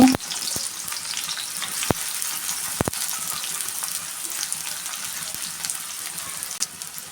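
Sliced onions dropped into hot oil, a strong, steady crackling sizzle with a loud initial hiss and a few sharp clicks, close and with no voices.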